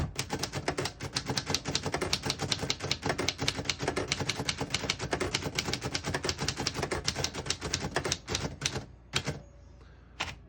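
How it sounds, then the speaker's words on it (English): Rapid keystrokes on a 1930 Royal Portable P Model typewriter clatter steadily for several seconds, sharp and close, then slow to a few scattered strikes before stopping. "I'll type a sentence in red on the next line"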